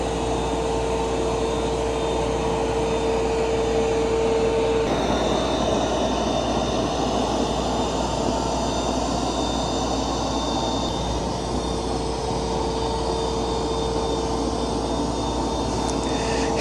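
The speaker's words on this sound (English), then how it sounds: "It's doing an excellent job of vacuuming." Roborock Q10 X5 robot vacuum and mop running on max plus over carpet, a loud steady whirring drone with an even motor hum, close by and continuous, with no talk.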